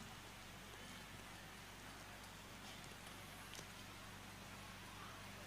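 Steady night rainfall hisses evenly throughout, a dense continuous wash of drops on surfaces with a low constant hum beneath and no voices.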